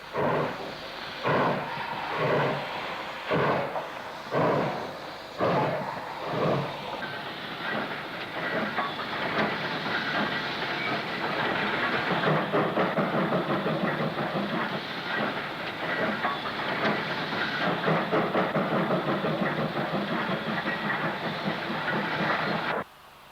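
Steam locomotive departs the up sidings hauling a coal freight train for Blackburn and Preston, loud rhythmic chuffing beats at first, then a continuous roar of exhaust and rolling wagons, with no voices.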